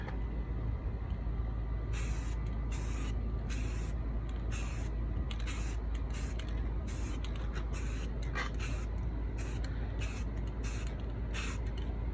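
Spray can bursts of white primer on an old surfboard being refurbished, a string of short hissing puffs repeating every second or so over steady background noise.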